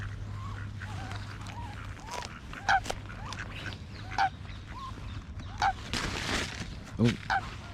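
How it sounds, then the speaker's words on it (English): Ducks being fed bread outdoors in Amsterdam quack and honk in several loud, separate calls spread across the moment, over a background hum and light ambient noise. "The ducks are come for some bread."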